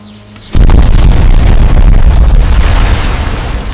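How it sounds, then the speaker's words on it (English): An artillery barrage from Soviet-built M46 130mm field guns and rocket batteries along a canal front: a sudden massive boom after a short quiet start, then a loud, continuous rumbling roar of overlapping blasts. "A line of Soviet-built M46 130mm field guns and rocket batteries opened the barrage across the canal front"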